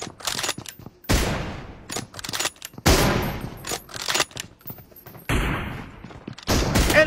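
Rapid bursts of gunfire from an M24 sniper rifle and other weapons in a BGMI (PUBG mobile) battle, loud overlapping shots and volleys in clusters across the stretch, with no voice over them.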